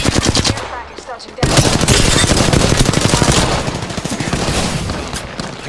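Rapid bursts of automatic video-game gunfire sound loud and close, firing continuously in dense volleys after a short choppy opening.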